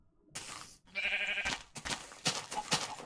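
Sheep bleating in Minecraft, a few short bleats in quick succession against game background sounds, fairly close and clear.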